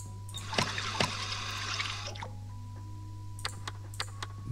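Water trickling and splashing into a mixing bowl in Bakery Simulator, a short burst of pouring over a steady low machine hum, followed by a few faint drips and clicks.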